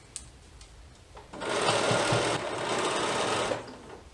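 Sewing machine stitching around the circular edge of a T-shirt dress, a steady motor whir running for about two seconds, pausing briefly, then running again before stopping, close and alone.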